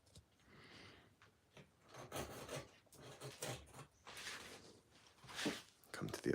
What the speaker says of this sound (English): I'm gonna come back down and do a little bit more with the gouge and catch a little bit more of this detail down here.